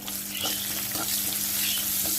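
A medium-sized chopped onion drops into hot oil with toasted black cumin for a Bengali fish curry, giving a steady, close sizzle with light crackles throughout.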